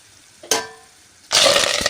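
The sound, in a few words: peanuts frying in hot oil for tempering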